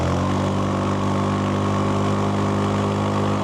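A Zontes 368G V2 motorcycle climbs the mountain road up Gunung Jerai, its engine a steady, loud, close drone that holds without a break and with no talk over it.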